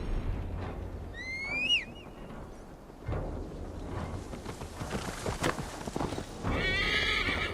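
In Assassin's Creed Valhalla, a horse gives a loud rising whinny near the start, then hooves clip-clop steadily over ambient outdoor game sound, with a second whinny-like call near the end.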